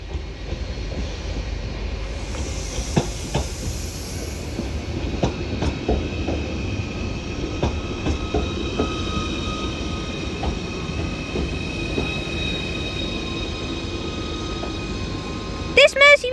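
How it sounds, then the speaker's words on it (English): Merseyrail class 777 electric train arriving at Chester station on a service terminating from Liverpool Central, a steady rumbling roll with brief clicks and a high whine, loud and close, with a voice speaking over it. "This Merseyrail 777 now terminates in with the 1425 Merseyrail service to here, Chester"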